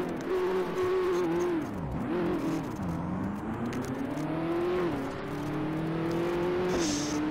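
Race car engine at Brands Hatch in Race Pro, a steady loud whine rising and dipping as the driver shifts and brakes through corners, sustained throughout with no speech.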